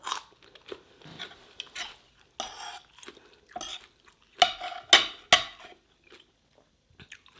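Close, crisp bites and chewing of mixed salad greens with snow peas and beans, eaten at home. Several sharp crunches come in quick succession, with quieter chewing and pauses between them.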